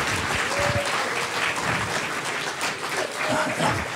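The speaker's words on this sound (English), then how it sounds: "Let's give it a big round of applause for everybody that was involved." Audience at an adult costume contest at a horror festival applauding, a dense sustained roll of many hands clapping throughout, fairly loud and roomy with cheers mixed in.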